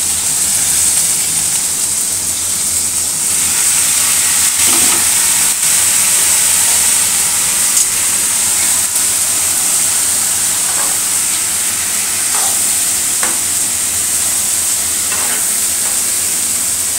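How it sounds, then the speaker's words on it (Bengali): Cauliflower pieces with turmeric and a little salt fry in a pan, giving a loud, steady sizzling hiss that runs unbroken throughout, with faint stirring clatter. "এপাশে একটু ফুলকপিটা ভেজে নেব।"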